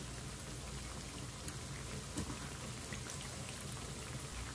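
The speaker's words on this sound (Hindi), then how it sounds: "अब हम इसे फ्राई कर लेंगे और हमें इसे मीडियम फ्लेम पर फ्राई करना है" Poha and potato cutlets fry in hot oil over a medium flame, producing a soft, even crackle and hiss close by, with a few small pops and no talking.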